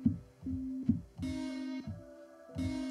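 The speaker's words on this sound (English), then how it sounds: "So it sounds like this is the sampler." Sampled notes repeat in a bouncy pattern with plucky attacks, a bright sustained tone entering partway through, fairly quiet.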